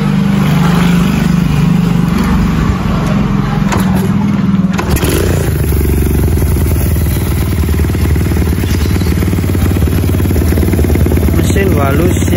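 Motorcycle engine idling steadily up close during a sound check, a continuous low throbbing drone with a rougher, louder rumble after a few seconds and some mechanical clatter; someone talks over it.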